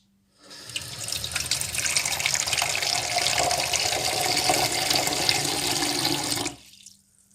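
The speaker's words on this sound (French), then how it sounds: "Ce que vous allez faire, c'est mettre 300 ml d'eau, pas plus, pas moins non plus." Tap water runs steadily into a glass for about six seconds, a continuous close rushing pour with no talking, then stops abruptly.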